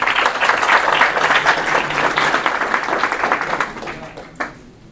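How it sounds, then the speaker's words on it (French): An audience at a generative-AI and agile business event applauds warmly, a dense wash of clapping that fades out toward the end. "je voulais qu'on les applaudisse tous."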